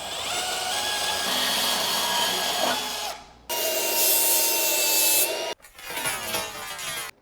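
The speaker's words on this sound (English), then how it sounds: "we're going to cut the excess off as well" A power tool cuts excess material off a handrail in three close bursts, a loud steady grinding whine, then a short pause, then a brighter burst, then a rougher uneven final cut.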